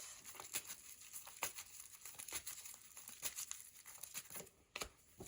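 Tarot cards are drawn and handled close by: quiet papery shuffles, flicks and crinkles come in irregular bursts with no talking.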